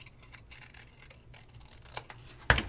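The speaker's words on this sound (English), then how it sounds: "I'm going to go ahead and cut some of this semicircle off." Scissors snip through paper to trim a semicircle for an album card, with soft quiet scratchy snips that end in one louder sharp cut, and no talk.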